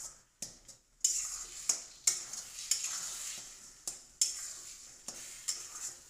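Egg bhurji being stirred and fried in a pan, a series of quick spatula scrapes against the metal every second or so over a quiet, close sizzle.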